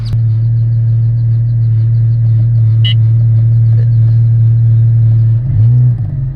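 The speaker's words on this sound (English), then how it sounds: "hear the idle" A Porsche GT4 with a Dundon Megaphone Cracked Pretzel exhaust idles, heard from inside the car as a steady, deep, droning rumble that shifts slightly near the end.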